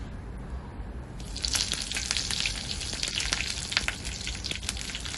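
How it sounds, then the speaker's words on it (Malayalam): Curry leaves hit hot coconut oil with popping mustard seeds, bursting into a loud, crackling sizzle with scattered sharp pops that continue steadily, close up and without talk. "കറിവേപ്പില ഇട്ട് കൊടുക്കാം."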